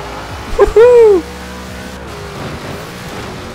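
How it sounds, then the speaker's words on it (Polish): A two-ton Ford Transit van racing in Forza Horizon 4, its low engine drone humming steadily throughout, briefly overlaid early by a loud, rising vocal exclamation. "Z drogi, kurde, dwutonowy transit jedzie."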